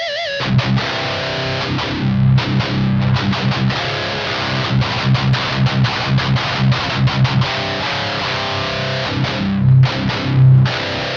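Electric guitar played through a BluGuitar AMP1 Iridium amp into a Neunaber Iconoclast speaker emulator, a dense distorted riff of rapid chugging and palm-muted strikes with sustained overdriven chords, loud and continuous, no talk.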